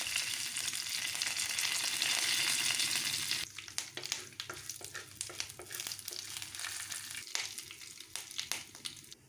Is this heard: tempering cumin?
yes